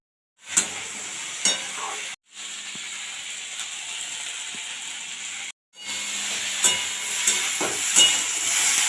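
Cut pumpkin, taro stems and papaya tipped into a five-spice tempering, loud close sizzling and hissing that runs steadily with brief gaps and sharp clatters of pieces hitting the hot oil.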